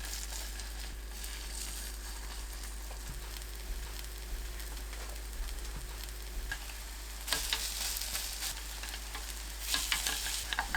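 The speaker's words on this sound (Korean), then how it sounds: "식용유 두르고 팬을 예열합니다. 약불로 낮추고 반죽을 올려주세요." Batter for a fish cake and seaweed pancake fries in an oiled pan over low heat, giving a soft continuous sizzle with faint crackles and a steady low hum underneath, a little louder toward the end, with no talking.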